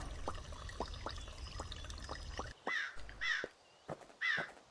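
A crow caws several times in harsh, clipped calls over an ambient soundtrack in the game Pumpkin Panic, with watery dripping sounds in the background.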